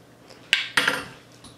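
Two sharp metallic clinks as a large metal spoon strikes toy magnets, close and bright, the second ringing briefly before fading, with quieter small taps around them.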